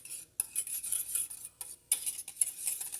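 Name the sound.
stirring Italian herbs into a pizza sauce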